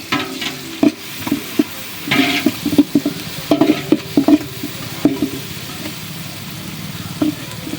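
Chicken pieces sauté in oil in a pan for chicken biryani, a close, continuous sizzle punctuated by a rapid run of spatula scrapes and knocks that thin out toward the end.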